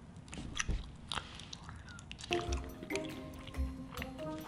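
Raw honeycomb is chewed up close: wet squishing bites and sticky, smacking mastication as the waxy comb bursts, with soft intermittent crunches and no talking.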